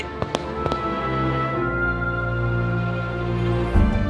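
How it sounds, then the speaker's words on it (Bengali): Fireworks burst over Niagara Falls, with a couple of sharp cracks at the start followed by a long rumbling boom and another thump near the end, heard from a distance. "গাইজ এত সুন্দর ফায়ার ওয়ার্কস হচ্ছে এখানে।"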